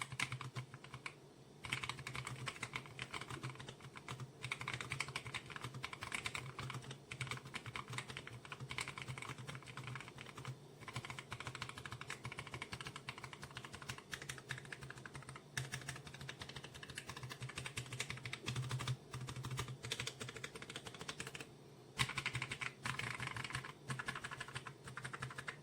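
Steady clicking of keys on a mechanical computer keyboard with a soft, muted touch, the keystrokes coming fast and continuous at close range with no talking.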